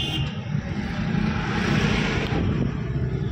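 Car engine heard from inside while a learner driver eases off the clutch and gives light throttle: a loud, steady, close engine drone that swells slightly and then settles.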